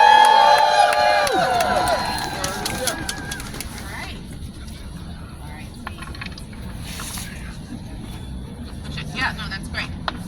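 An outdoor crowd at a rally outside Tweed Courthouse cheers and whistles for a speaker, loud at first and then tapering into scattered claps and murmurs with some talk.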